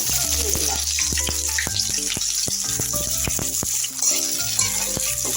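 Chopped onion frying in hot oil with bay leaves and three fried chillies, for a ghugni-style dish; a steady loud sizzle with crackles and occasional spoon clinks throughout, no talking.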